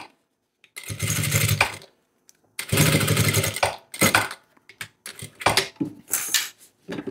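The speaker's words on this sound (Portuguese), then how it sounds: "E eu vou passar uma costura segurando uma ponta e a outra ponta" A sewing machine stitching a seam to hold down the flap of a fabric shoulder bag, running in two longer whirring bursts and then several short starts and stops, close and fairly loud.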